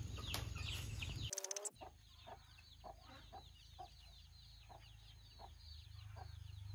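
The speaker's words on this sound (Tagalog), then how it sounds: "Inahin na manok" A mother hen with her chicks on a rural farm in the Philippines clucks in a steady series of close, moderately loud calls, starting with a brief noisy burst.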